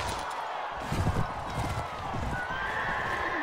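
Horse hooves clip-clop and a horse whinnies in the medieval combat game Mount & Blade: Warband, with rapid hoofbeats and battle noise over a steady background.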